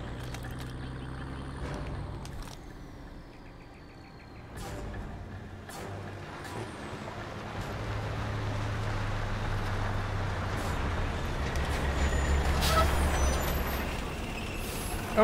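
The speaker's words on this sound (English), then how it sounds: "We're tracking an enemy convoy headed your way." Enemy convoy of vehicles, including a tank, rumbling past in Call of Duty: Modern Warfare Remastered, low engine drone swelling steadily louder and nearer, with a brief hiss and scattered clanks early on.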